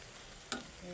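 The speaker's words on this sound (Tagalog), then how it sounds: "Haluin ko lang ng isang bisis at hahayaan ko na." String beans simmer in coconut milk with a soft, steady bubbling hiss, broken once by a single utensil tap as the pot is stirred. The sound is brief and faint, with no voices.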